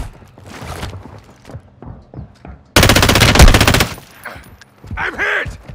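Automatic gunfire in the video game DMZ: a loud, rapid machine-gun burst lasting about a second, with scattered single shots and impacts around it and a radio voice speaking faintly at the end.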